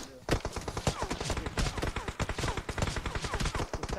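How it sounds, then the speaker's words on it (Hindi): Gunfire in the PUBG Mobile battle royale game comes from another direction: dense, rapid bursts of shots crackling one after another without pause, loud and continuous. "और जगह से भी शॉट्स पड़ रही हैं"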